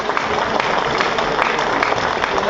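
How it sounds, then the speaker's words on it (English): Essex cricket crowd at a 2019 Vitality Blast match against Surrey giving a standing ovation, dense steady applause from many hands clapping loudly and continuously. "he's going to get a standing ovation from the Essex crowd"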